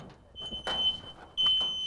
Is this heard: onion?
no